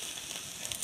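Steel spatula blade scraping across a Blackstone griddle amid steady frying sizzle, a short close run of hissing and faint metallic scrapes with no talk.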